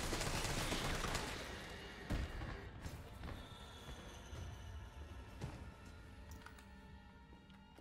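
Gunfire in the video game Resident Evil 3: a dense, loud burst of shots at first, then scattered single reports that thin out and fade over low game ambience.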